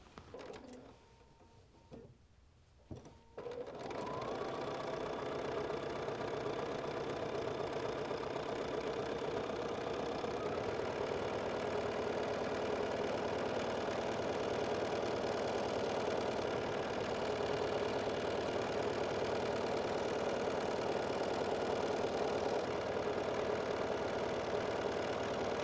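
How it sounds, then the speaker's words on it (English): A sewing machine stitches pinned quilt pieces for a six-panel quilt; after a few quiet seconds its motor starts and hums steadily and softly for about twenty seconds without pause. "now I'm ready to sew."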